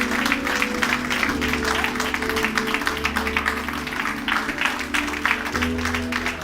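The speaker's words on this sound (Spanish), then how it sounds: "Un aplauso, vamos" A church congregation applauds together in a steady, dense wash of clapping, with a sustained musical tone, like organ or keyboard, underneath throughout.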